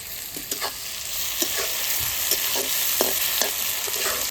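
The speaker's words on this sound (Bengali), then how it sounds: "পেঁয়াজটা সুন্দর করে লাল করে ভেজে নিচ্ছি" Onions frying in a pan until reddish, producing a constant loud hissing sizzle with light, regularly spaced stirring taps, without speech.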